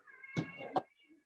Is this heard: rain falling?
no